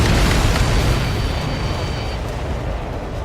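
A missile explosion destroying a tanker aircraft in the video game Ace Combat 7: a loud, sustained rumbling blast that stays dense for several seconds and slowly fades, with no voices.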